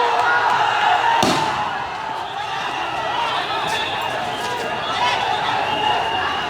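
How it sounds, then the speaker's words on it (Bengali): Grenades burst at a street protest at Dhaka University, with one sharp loud bang near the start and scattered thuds afterward, set under a dense crowd roar and people talking throughout. "অসংখ্য গ্রেনেড কিন্তু আসলে ফোটানো হচ্ছে"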